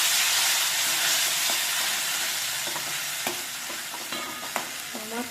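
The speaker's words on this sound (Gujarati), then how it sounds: "આપણે જીરું વઘાર કરી નાખ્યો, નાખી દીધા મરચાં અને ટમેટાની તેલ" Cumin, chillies and tomatoes are tempered in hot oil with a loud, continuous close-up sizzle and hiss, while a few light utensil clinks from stirring come through near the end, with no talking.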